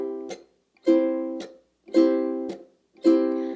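Reggae-style guitar chords ring out in a steady pattern, each followed by a sharp muted percussive chuck, repeating four times with brief silences between.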